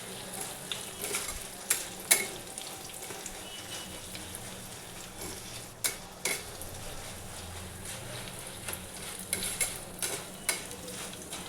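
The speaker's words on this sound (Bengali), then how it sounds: "এবার আমি চিঁড়েকে এতে ভাজবো।" Flattened rice (chira) fries in hot oil, a continuous crackling sizzle broken by clattering scrapes of a stirring utensil against the pan at irregular intervals.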